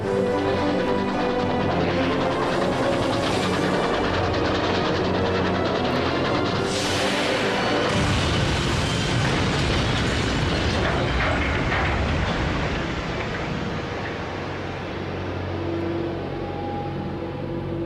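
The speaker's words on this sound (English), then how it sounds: "The Yank Express left the track completely, smashing headlong into a nearby milk train, slicing it in half." The Yank Express train derails at speed on a curve at the east end of a station and smashes headlong into a milk train, a loud continuous roar of rolling stock and crashing metal that fades slightly toward the end.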